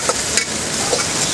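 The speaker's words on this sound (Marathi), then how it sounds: "कोबी टाकून याला फ्राय करून घेतोय आपण" Cabbage frying in a pan with ginger garlic paste for a Chinese bhel recipe, a loud steady sizzle with faint scraping of stirring, close up and without talk.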